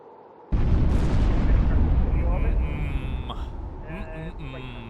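Concorde sonic boom in the flight simulator game FSLabs Concorde, a sudden loud deep blast that rolls into a long rumbling roar, with a person talking over the fading tail.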